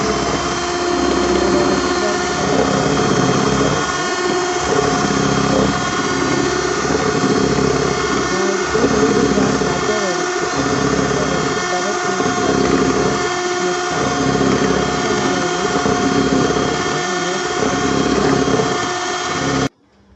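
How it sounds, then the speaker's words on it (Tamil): Electric mixer whisking egg whites with sugar to stiff peaks for strawberry chiffon cupcakes, a loud steady motor whine with rhythmic beater pulses throughout, cutting off at the end. "நமக்கு ஸ்டிஃப் பீக்ஸ் வர மட்டும் நம்ம பீட் பண்ணி எடுக்கணும்."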